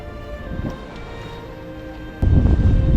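Strong gale wind gusting around 40 knots at sea off Tasmania's east coast roars and buffets against the microphone in a low rumble, surging into a louder, harsher gust for the last second.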